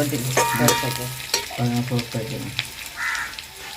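Eggplant and onion fry in a pan for a Jaffna-style eggplant chutney, with a soft sizzle under repeated scraping stirs and clinks of a utensil, heard up close while a voice murmurs faintly.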